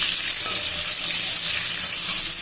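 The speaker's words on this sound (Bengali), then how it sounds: "এই যে কড়াইতে তেল দিয়ে দিলাম, এবার ডিমটা দিয়ে দিলাম," Eggs fry in hot oil in a wok, giving a close, steady, bright hiss of sizzling with no voices over it.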